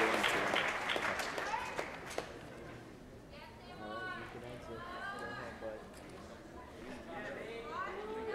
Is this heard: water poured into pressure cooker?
no